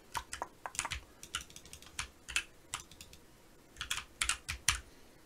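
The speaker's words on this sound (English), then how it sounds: "this probably won't be the best level for testing out this keyboard, but feels plenty responsive" Keys on a ROG Falchion ACE mechanical keyboard clatter in quick irregular bursts during first-person shooter gameplay, crisp and close, with short pauses between flurries and no talking.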